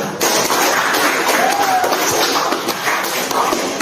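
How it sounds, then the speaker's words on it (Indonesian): Students in a group counseling session in an Indonesian school clap together, a dense, even burst of hands close by lasting several seconds. "Tepuk tangan untuk kita semua."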